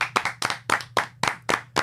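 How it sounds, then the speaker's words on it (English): A few hosts clap together for the 2025 Geauga County Fair, about eight sharp, evenly spaced claps over two seconds, close and fairly loud, with no talking. "we're going to clap it out for the 2025 Geauga County Fair."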